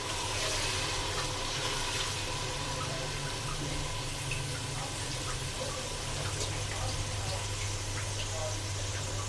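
Water goes into a pot of frying masala for street-style Lahori dhaba daal mash, a steady loud hiss and sizzle that runs continuously with low kitchen hum underneath.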